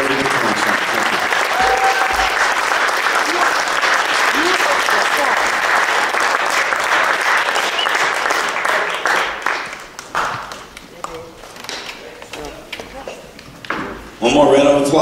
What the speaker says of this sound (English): One more round of applause, Jake Langley and the UNLV Jazz Guitar Ensem